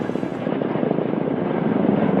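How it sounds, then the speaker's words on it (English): A Kamov Black Shark military helicopter drones loudly and close, its rotor beating in a fast, steady chop under a dense engine roar that holds without a break. "the Kamovs named its helicopter the Black Shark"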